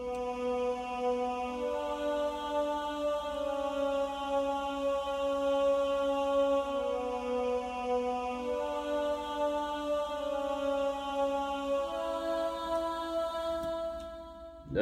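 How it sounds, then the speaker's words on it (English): A sustained vocal one-shot sample with a long release tail plays dry without effects, holding steady harmonic tones that shift pitch slowly in a simple melody, alone and clear. "We got this vocal one shot right here."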